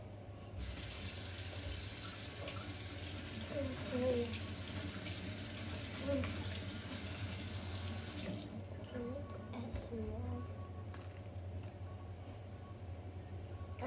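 Water running from a tap, a steady hissing splash that continues for several seconds, then stops, leaving quieter handling sounds; a person speaks briefly.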